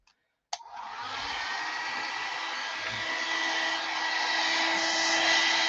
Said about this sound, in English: if you're using the hairdryer, just have to control it a little bit more than if you're using the air puffer.